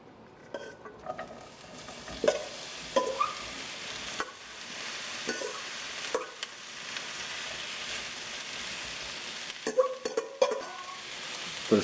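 Vegetables sizzle steadily in a hot pan beside sous vide skirt steak burrito meat, a continuous frying hiss broken by occasional scraping stirs and clinks of a utensil against the pan, close and moderately loud with no talking.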